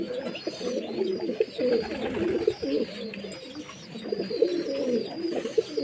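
Pigeons eating from a person's hand give a continuous, close, low cooing, several birds overlapping in soft rolling calls with no talk.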